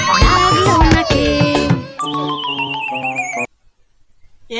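A horse neighs loudly in a long shrill whinny with a wavering pitch, which drops off into brief silence; a children's alphabet song with music runs through it.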